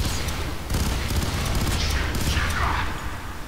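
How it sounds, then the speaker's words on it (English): Rapid bursts of gunfire crackle through a firefight in the shooter game F.E.A.R. 3, dense overlapping shots with a couple of whooshing effects near the end, loud and continuous throughout. "I shot a guy in midair"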